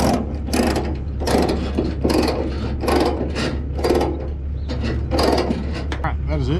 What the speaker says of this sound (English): Sound of rattling chains on a deck.